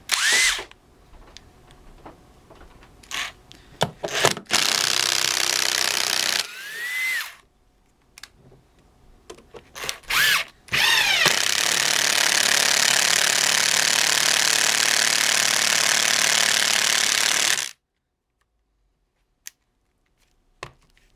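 An impact driver fitted with Bosch impact bits drives screws in several loud, rattling bursts, with short pauses between them and one long sustained run near the end.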